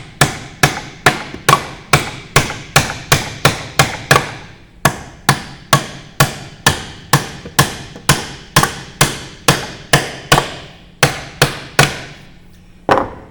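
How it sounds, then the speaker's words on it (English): Hammer tapping nails to mount an electrical gang box, a long run of sharp, loud, evenly paced strikes close by, about two per second, with a brief pause near the end and no talk. "I'm just going to tap the nails into place to get them started."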